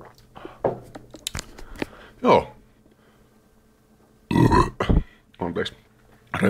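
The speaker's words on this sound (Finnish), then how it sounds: "röyhtäsin" A burp after a sip of sparkling mineral water, a short low burst that stands out between bits of nearby speech and small mouth sounds.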